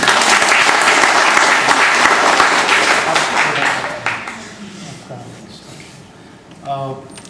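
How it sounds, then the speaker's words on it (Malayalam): An audience at an evening event applauds, dense and loud clapping that holds steady for about four seconds and then fades, followed by a brief voice near the end. "നല്ലൊരു ഉഷാർ കയ്യടി സാങ്ക്യാജിക്ക് വേണ്ടി"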